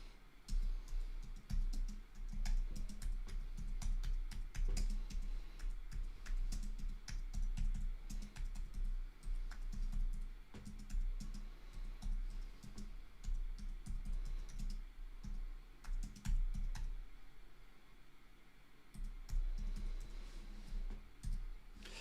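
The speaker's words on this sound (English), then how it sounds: "This is the part where I have to pretend I can type and talk." Continuous typing on a computer keyboard: a close, irregular stream of key clicks and taps in bursts, with brief pauses, lasting over twenty seconds with no talking.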